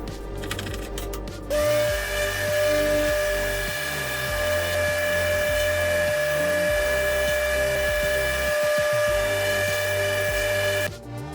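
A palm router cuts rings into ash or maple wood guided by a quarter-inch plywood jig for a perpetual calendar, giving a steady high whine that runs almost unbroken and close, starting and stopping sharply.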